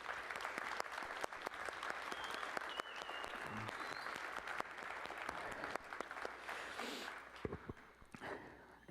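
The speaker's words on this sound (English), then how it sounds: "So give this choir a round of applause for the excellent rating on their core performance assessment." An audience applauding a school choir at a spring concert, dense sustained clapping from a crowd filling the hall, steady and fairly distant, tapering slightly near the end.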